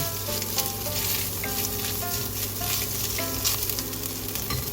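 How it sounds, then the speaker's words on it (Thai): Shredded grilled chicken stir-frying in a pan for spaghetti, a steady, loud sizzle throughout with faint scraping from stirring, no voices. "เอามาจีบฝอยๆไว้ แล้วก็เอามาผัด ให้มันหอมนะคะ"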